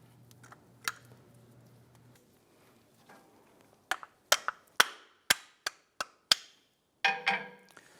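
Brake pad being tapped into place on a 1997-2006 Jeep Wrangler front brake caliper, a run of about eight sharp metallic knocks, mostly spaced evenly and close, with a few scattered clicks earlier.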